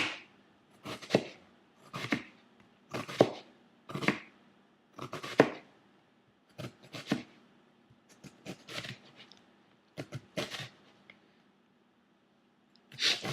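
Onions and tomato chopped by hand with a knife on a board, heard as a series of close, sharp knife strikes in irregular groups of taps with short gaps between them and no talk.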